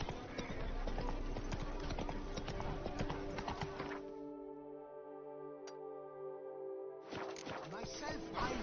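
Hoofbeats of a galloping horse in The Witcher 3: Blood and Wine, a rhythmic clip-clop that breaks off midway and then resumes, backed by steady game ambience.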